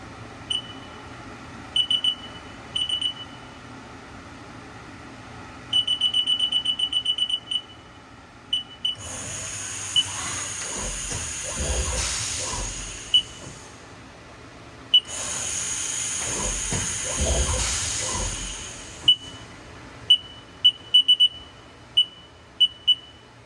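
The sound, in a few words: Haas VF-3SS CNC vertical mill spindle running up to 12,000 rpm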